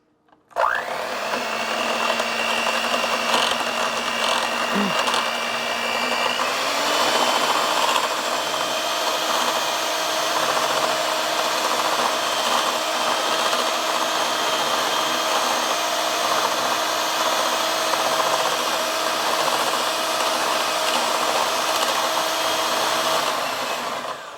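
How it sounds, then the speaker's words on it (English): Cottage cheese and two egg yolks whipped together by an electric mixing appliance, a loud, steady whir that runs without a break and climbs to a higher, busier pitch partway through. "So I'm going to go ahead and give this a quick mix."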